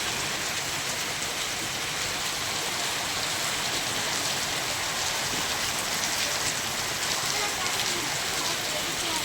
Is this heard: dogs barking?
no